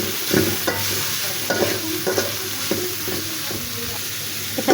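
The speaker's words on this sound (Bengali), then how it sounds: "এখানে আমি সবজিটা 2 মিনিটের মতো ভেজে নিয়েছি" Mixed vegetables stir-fried in a pan for fried rice produce a constant sizzle, broken by repeated scraping and tossing strokes of a spatula, with no talking.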